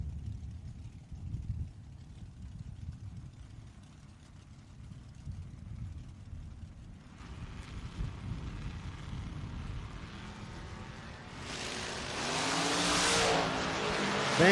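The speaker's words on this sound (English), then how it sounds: "Here comes that hard charging dragster on top end." A dragster and a Blazer run down a drag strip at a bracket race, engine roar building from a distant rumble to a loud, close rush at the top end, with faint talk early on.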